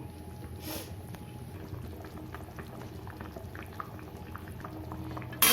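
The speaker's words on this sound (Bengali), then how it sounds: "দেখুন ঝোলটা কত সুন্দর ফুটছে" Fish curry gravy with slit green chillies bubbles steadily in a pan, a soft, continuous close boiling with no talk.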